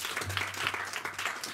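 A church congregation applauds in a dense, steady wash of clapping throughout, with a low hum running underneath.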